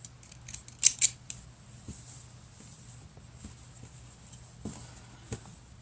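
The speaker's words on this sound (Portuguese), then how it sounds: "Vamos cortar todas essas linhas." Scissors snip along marked lines on a coffee filter mask pattern, a few sharp close cuts near the start followed by quieter intermittent clicks and paper rustle over a steady low hum.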